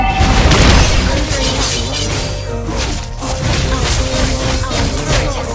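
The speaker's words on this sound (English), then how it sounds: "Our turret has been destroyed." A turret being destroyed in Mobile Legends: a loud crashing boom with debris and whooshing impacts, heavy throughout and layered over music.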